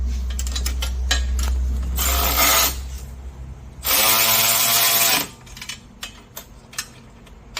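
Bolts on a golf bag attachment for an Evolution D5 Maverick or Ranger golf cart are tightened with a power tool, two loud bursts of whirring driver noise separated by quieter clicks and handling sounds.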